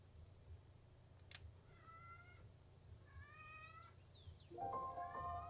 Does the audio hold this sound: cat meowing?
yes